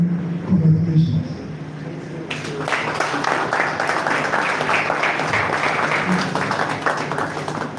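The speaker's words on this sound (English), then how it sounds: "A round of applause again for our national president, representative." Audience applause at an engineers' society event in Ikeja, Nigeria, breaking out after a quiet opening and holding as steady, dense clapping from a large crowd, with a voice over a PA heard under it.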